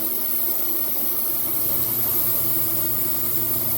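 A steady, close hiss of aerosol brake cleaner sprayed inside a car's rear brake drum runs continuously without a break, with a faint low mechanical hum underneath.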